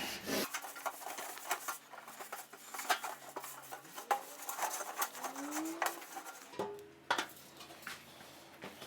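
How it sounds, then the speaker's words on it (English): A cloth rubs and wipes a vintage 1900s stove part before assembly, giving close, soft scraping strokes with light metallic taps and clinks, and a low hum in the background. "I think I'm gonna wipe this down before I put it together."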